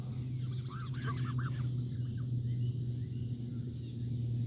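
Canada geese being fed, honking calls rising over a constant low rumble of background noise, several birds heard at moderate distance with no voices.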